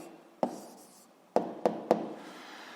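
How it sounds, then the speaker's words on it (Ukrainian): A pen writes out an answer on paper, with soft scratching broken by a few sharp taps against the desk, close and quiet. "Пишемо відповідь."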